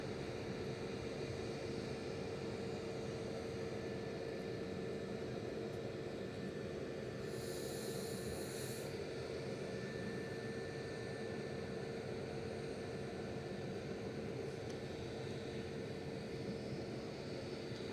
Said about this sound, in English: Ryanair touching down from Oslo in the background. 737-800 GRUKA.